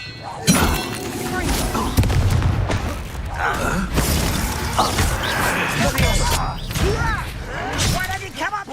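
A Confringo blasting spell goes off in the game Hogwarts Legacy, a loud booming burst among a busy run of crashing, shattering combat effects, with a voice shouting spell names over the noise.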